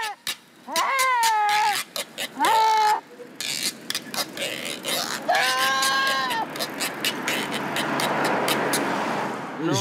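Goats carried on a bicycle in Zambia bleat in several drawn-out, wavering calls near the start and middle, loud and close, over a steady bed of road and background noise.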